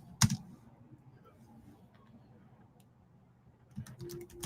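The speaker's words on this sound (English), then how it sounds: "we're going to type in Betsy" Computer keyboard keys clatter close by in two brief bursts of quick typing at the start and end, separated by a quiet stretch with faint background murmur.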